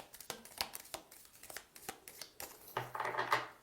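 Tarot cards being shuffled by hand, a series of quick papery riffles and soft slaps close by with no talking, building to a denser flurry near the end.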